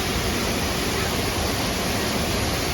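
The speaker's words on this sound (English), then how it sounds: "It's a local waterfall on a trail that we were hiking on today." A local waterfall along a hiking trail pours as a loud, unbroken roar of rushing water, broad and steady with no pauses or voices.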